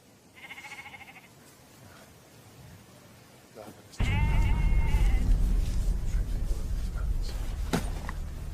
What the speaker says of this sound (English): Nothing but bloody sheep.